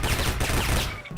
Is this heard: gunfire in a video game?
yes